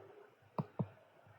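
Two crisp computer mouse clicks land close together, about a quarter second apart, faint and near against a quiet room.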